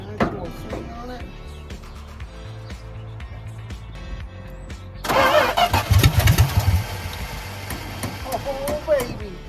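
A Dodge D200 engine cranks over on a newly installed starter, a steady churning under talk for several seconds before it catches with a loud, uneven burst of firing and revving up close.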